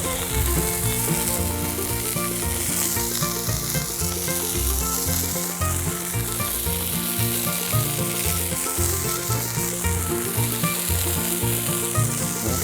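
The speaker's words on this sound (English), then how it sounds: "Let's toast up some buns." Hot dog buns sizzle steadily on a buttered Blackstone flat-top griddle, a continuous loud frying hiss with crackling throughout, no talking.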